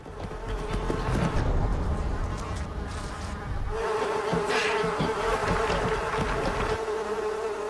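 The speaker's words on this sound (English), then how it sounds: "After being swarmed by thousands of vicious mosquitoes" A swarm of mosquitoes in the Arctic tundra, a continuous close, whining buzz that fills the whole stretch, with a steady droning tone in the lower register.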